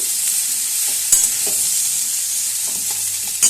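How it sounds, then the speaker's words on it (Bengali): Thick-cut ridge gourd pieces are stir-fried in a pan with salt, sugar and turmeric, giving a steady bright sizzle with occasional spatula scrapes and knocks, close and fairly loud, with no voices. "এটা দেওয়ার পর আমি মিশিয়ে দিচ্ছি নুন চিনি আর হলুদ"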